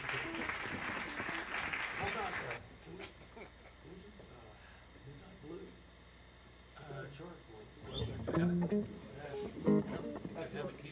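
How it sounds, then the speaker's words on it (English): A small audience at a jazz trio gig gives an encore clap, a short burst of clapping at the start, then quieter room sounds and talk, with a few louder knocks and scattered claps near the end. "We got the encore clap."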